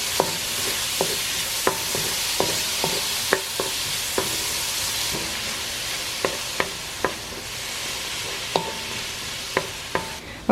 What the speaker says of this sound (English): I'm just gonna saute everything together, and then I season it with fish sauce.